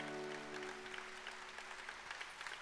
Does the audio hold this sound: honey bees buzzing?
no